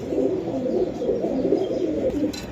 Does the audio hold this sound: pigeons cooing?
yes